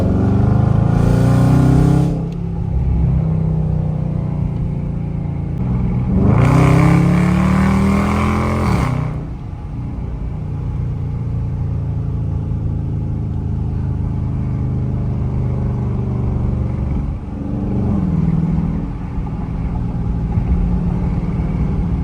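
A Dodge Charger R/T engine driving on winding canyon roads in the morning, loud rumbling exhaust with two strong revving surges early on, then a steady cruising drone and another rise near the end.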